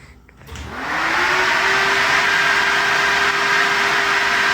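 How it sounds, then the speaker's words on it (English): A 16-inch electric fan switches on and quickly rises to a loud, steady whirring roar with a constant motor hum, running alone. "thank you, Tommy, Spall 16-inch fan. That thing is a life changer. This thing is so loud"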